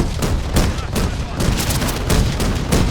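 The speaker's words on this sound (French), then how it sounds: "On subit des tirs en provenance de la station service." Dense gunfire in a Modern Warfare 4 campaign battle near a gas station, with rapid overlapping shots and bursts, loud and continuous, mixed with booms and some game dialogue underneath.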